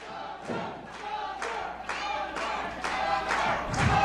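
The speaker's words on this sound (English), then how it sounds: "This crowd is heavily behind Latin Thunder." A professional wrestling crowd chants in rhythmic unison, loud repeated bursts of voices roughly every half second, swelling slightly toward the end.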